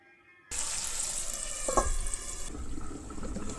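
Water poured into a pan of frying potatoes starts abruptly after a short silence and becomes a steady close rushing splash with a brief burst of gurgling midway.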